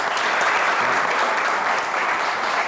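Dense, steady applause from a television talk show studio audience, continuous and even for a few seconds with no pauses.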